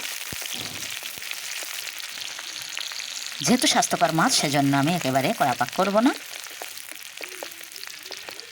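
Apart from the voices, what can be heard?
chopped onions frying in oil in a wok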